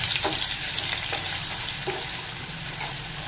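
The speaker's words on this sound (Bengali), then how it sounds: "এবার একটু ভালো করে নেড়েচে একটু রান্না করে নেব" Ginger, green chilli and garlic paste cook in hot oil for a katla fish curry, making a bright continuous sizzle with soft scraping from stirring, fairly quiet and without talk.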